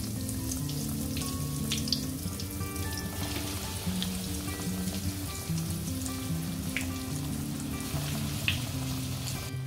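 Potato cheese balls dropped into hot oil, a dense, continuous sizzle and crackle of deep frying, close and fairly loud with tiny pops scattered through it.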